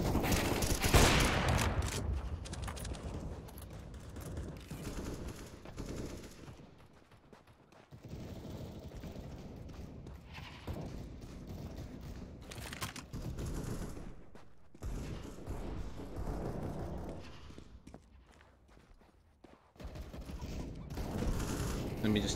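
Bursts of rapid video game gunfire ring out during a shooter match, with loud volleys broken by short pauses as players talk over the shooting.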